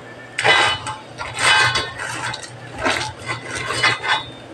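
A spoon stirs crab and squash in coconut milk in a metal pot, with repeated scraping and clinking strokes in uneven bursts over a low steady hum from the stove.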